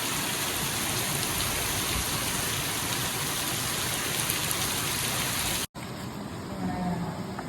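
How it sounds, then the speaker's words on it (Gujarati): Heavy rain pours down on a street in a dense, continuous roar, close and loud, with a brief cut near the end before the downpour carries on. "વરસાદ જો બાર શેરીમાં જો"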